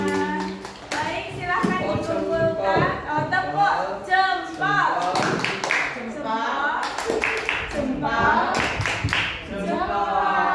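Hand claps from an audience at a positive-discipline session, a loose burst of clapping mixed with and partly masked by people talking loudly nearby.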